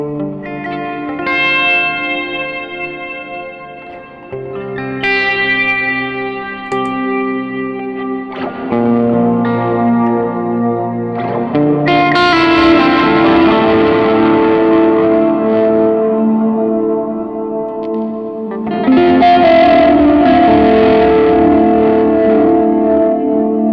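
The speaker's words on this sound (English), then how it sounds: "that's too much effect on the delay, on the reverb" An electric guitar through a pedal rig with heavy delay and reverb, chords ringing out and smearing into long echoing tails, loud and alone, with a distorted edge building in later strums.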